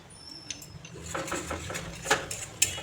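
Ground onion paste with a little sugar is stirred in a pan for a Bengali katla kalia fish curry, the utensil scraping and clinking against the metal in scattered, fairly faint strokes with no voices.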